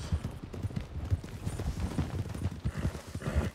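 Horse hooves clip-clopping in the western roleplay game RedM, an even run of close, distinct hoof strikes at a walking pace that continues steadily, with no talk over it.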